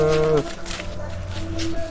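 A native-breed village cow lets out a deep moo at the start, with a shorter, softer lowing sound later amid background farmyard noise.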